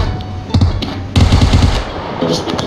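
Automatic gunfire rattles in the video game PUBG, loud close bursts of rapid shots in two main volleys with short pauses between.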